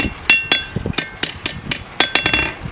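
A 2.5 pound cross peen hammer strikes a metal blade during forging, giving a steady series of sharp ringing blows about every quarter second, close and distinct with no talk.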